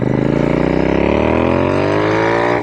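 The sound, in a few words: Clymer-style hybrid motorcycle engine revving on a ride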